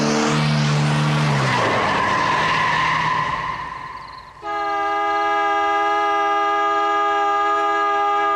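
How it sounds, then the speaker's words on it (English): A car's tires screech in a long, loud skid as it swerves on a road, fading out before a sustained multi-tone horn blares close by. "and that's when the car swerved."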